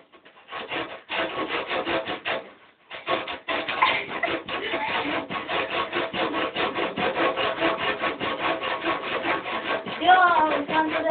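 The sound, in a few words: hand saw sawing wood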